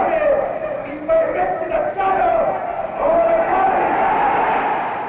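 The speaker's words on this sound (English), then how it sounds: "The cheering of the great crowd interrupts Il Duce" A great crowd of fascists at Palazzo Venezia cheers Mussolini, a sustained, echoing roar of many voices that swells and rises in waves. The sound is loud and reverberant, with no clear single voice.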